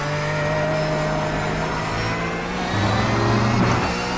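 A Porsche race car engine in the iRacing sim drones steadily at high revs, rising in pitch as it accelerates near the end, loud and continuous with no talking.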